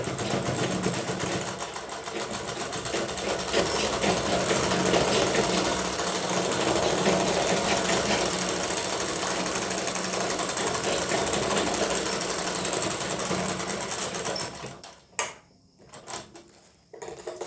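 A sewing machine stitches the side seam of a kurti in one long continuous run of about fifteen seconds, its close, rapid mechanical chatter steady until it halts, followed by a few faint handling sounds.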